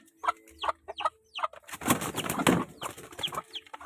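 A chicken clucks close by in short repeated bursts, then gives a louder, noisier squawking flurry before returning to clucks.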